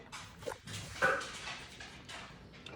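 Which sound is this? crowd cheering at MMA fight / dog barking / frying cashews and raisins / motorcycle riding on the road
dog barking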